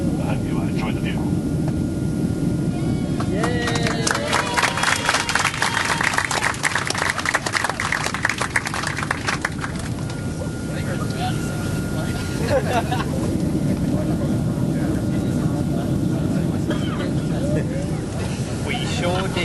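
A Qantas Boeing 767 airliner climbs toward 3,000 feet, its engines giving a steady broad cabin roar throughout. Scattered clattering and rustling sit underneath it.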